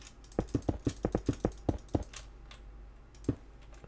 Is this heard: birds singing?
no